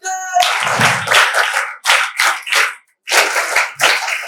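Audience clapping at a Kargil Vijay Diwas event, bursts of hand claps in uneven clusters with short gaps, close and fairly loud, a voice briefly at the start.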